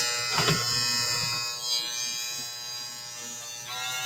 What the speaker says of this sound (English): So the clipper itself is very gentle.